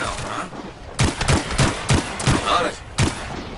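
Gunfire rattles in the video game Anthem, with repeated loud bursts of shots around one every third of a second against a busy battle background.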